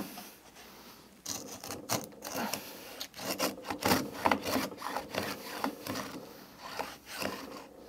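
Veritas router plane cutting wood by hand: repeated scraping strokes in an uneven rhythm, close and fairly quiet, with no talk.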